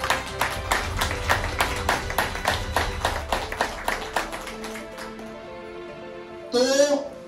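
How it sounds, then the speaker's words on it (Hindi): An audience at a company motivational talk claps loudly in a steady, even rhythm for several seconds, then the applause dies away and a voice speaks. "एक बार कंपनी के लिए जोरदार ताली हो जाए।"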